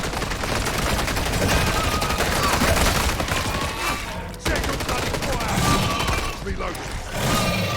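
Rapid automatic gunfire from the video game Call of Duty MW3, dense bursts of shots rattling almost continuously and loudly, with a brief gap midway and game sounds layered in.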